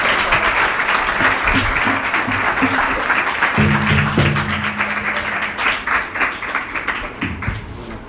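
A church congregation claps loudly and continuously, the applause slowly thinning toward the end, with a few brief taps and knocks along the way.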